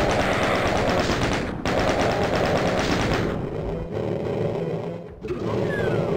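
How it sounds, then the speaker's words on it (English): Crusher trap in a video game, heard as a loud, dense mechanical rattling and grinding that runs continuously, cuts out briefly, resumes, then thins into a rumbling roar. "That sounded like a crusher."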